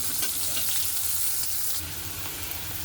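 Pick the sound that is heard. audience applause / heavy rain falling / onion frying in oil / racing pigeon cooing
onion frying in oil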